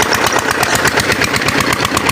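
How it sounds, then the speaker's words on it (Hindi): An old Peter diesel engine chugs steadily while driving a water pump for a rice field, a loud, close, continuous knocking drone with a rapid even pulse and no voices. "पीटर इंजन थोड़ा सा पुराना है, लेकिन यह है कि इसका ये फ़ायदा ये डीज़ल बहुत कम इसकी खपत होती है"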